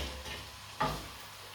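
Sclopit (silene) sizzles quietly in a pan over lowered heat, with a soft steady frying hiss and a single sharper scrape of stirring partway through.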